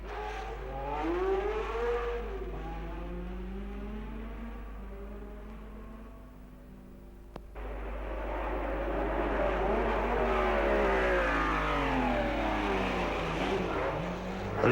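1963 Formula One race cars lap the Monaco Grand Prix street circuit, their engines rising and falling in pitch as they pass. After a cut, a denser, louder roar of several cars follows.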